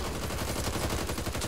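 Dense rapid gunfire from a gun in the co-op shooter game Back 4 Blood, loud continuous automatic bursts filling the moment without pause.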